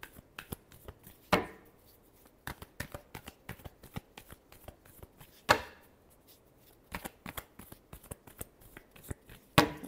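Tarot cards are shuffled up close in a quiet room, making a run of crisp, sharp riffles and slaps in an uneven rhythm, with a few louder snaps standing out among softer ones.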